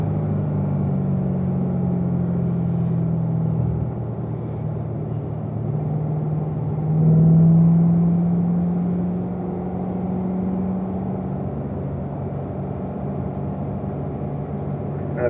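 Chevrolet Corvette engine on the Spring Mountain race track, a steady loud low drone with a pitch change near the four-second mark and a brief swelling surge around seven seconds as gears shift, with no talking.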